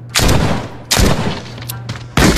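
Gunshots in the video game The Walking Dead: Saints & Sinners 2, three loud, close booming blasts spaced about a second apart, each with a short decaying tail.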